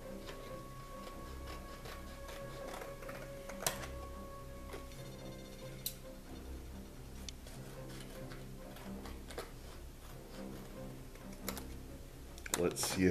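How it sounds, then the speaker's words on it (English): A printed photograph is trimmed along one side for art card packaging, with scattered light clicks and snips over a low background hum, plus a few sharper taps near the end. "I'm gonna cut a little bit off the side."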